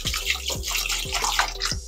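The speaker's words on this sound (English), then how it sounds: "Some vinegar, wash off the meat," Raw oxtail meat being washed with vinegar under running water, a continuous near splashing and trickling with rhythmic sloshes as the pieces are rubbed and turned in a sink.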